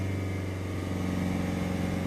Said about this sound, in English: I just hold the revs here at 2500 RPM